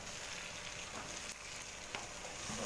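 Small pieces of cauliflower and potato sizzle steadily in a hot pan for a curry, with a continuous close frying hiss and a few soft scrapes as the pieces are stirred.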